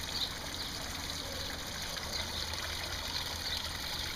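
Water runs steadily over a newly built backyard pond waterfall, a continuous broadband rush and trickle that stays even throughout, close by with no voices.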